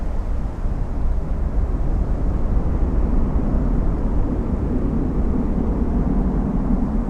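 A Lufthansa Airbus A350 arriving at Miami International Airport, heard as a loud, steady low jet roar that holds for the whole stretch without letup.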